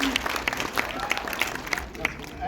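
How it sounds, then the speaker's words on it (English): An audience applauding at a film premiere in Toronto, steady clapping from a crowd with a voice talking over it. "Let's give a nice round of applause for where you are and what you're watching."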